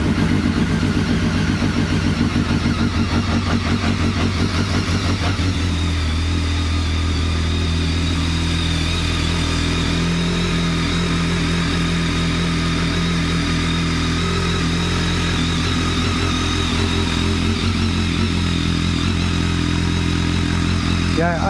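A BMW K1200S motorcycle engine with an aftermarket exhaust fires up from cold and settles into a steady, loud idle with a deep throaty tone, close by, running throughout.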